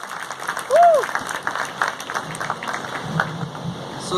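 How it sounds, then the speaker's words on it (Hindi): A gathering of Jain listeners claps for a speaker on animal welfare, a moderate wash of scattered applause from the audience, with a brief whistle-like tone early on and faint voices beneath. "इसके लिए जबरदस्त ताली हो जाए, जोरदार।"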